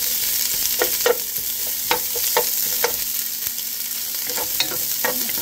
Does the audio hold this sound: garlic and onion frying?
yes